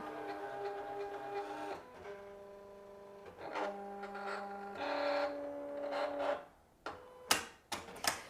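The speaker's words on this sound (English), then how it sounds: "the machine is reading those little registration marks to figure out exactly where it needs to cut" A Silhouette cutting machine reading registration marks for print-and-cut, with whirring motor tones shifting pitch as the carriage moves back and forth, then a few sharp clicks and taps near the end, close and without talk.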